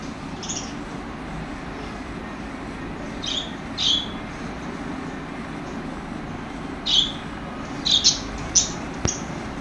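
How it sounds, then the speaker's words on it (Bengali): Lutino budgerigars give short, sharp chirps, scattered and then bunched near the end, over a steady low background rumble. "একজোড়া লুটিনো বাজরিগার পাখি রয়েছে"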